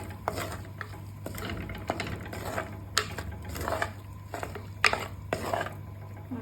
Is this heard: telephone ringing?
no